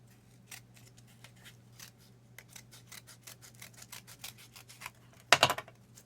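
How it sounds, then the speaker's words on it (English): Scissors snipping through card, a steady run of small crisp cuts close up over a low hum, ending in a louder rustle. "I think this last one has to be smaller, so I'm going to cut it off"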